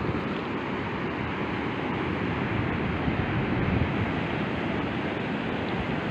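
Ocean waves wash against a debris-strewn shore in a steady, broad roar of surf mixed with wind, with no voices.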